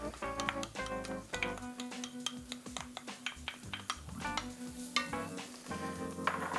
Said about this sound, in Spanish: Vamos a añadir en el fondo de esta paellera cebollita bien picada